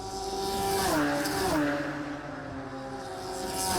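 Radical race cars at Snetterton circuit approach the timing line, high-pitched engines whining and shifting through gears as they pass, loud and steady with a rising and falling tone and no talk.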